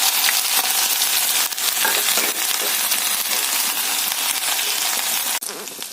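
Minced ginger sizzles steadily in hot oil with mustard seeds and cumin for a vendakka (okra) masala, a loud, dense crackle that runs unbroken and cuts off sharply near the end.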